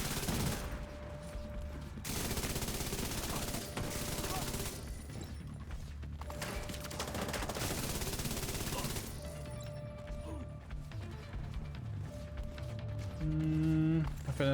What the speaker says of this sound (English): Let's get the LMG on the go.